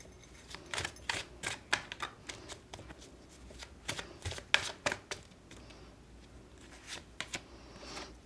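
A golden oracle card deck being shuffled, with a rapid, irregular run of crisp riffling snaps and soft papery rustles, close and fairly quiet, with no talking.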